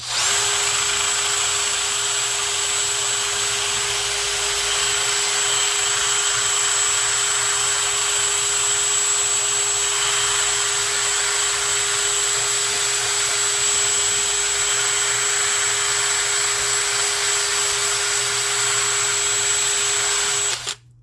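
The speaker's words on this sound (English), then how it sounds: "so we're going to take our wire brush" A powered wire brush scrubs the U-joint yoke of a 1987 Chevy S10 drive shaft, a loud continuous whine with a steady high tone that runs unbroken before cutting off at the end.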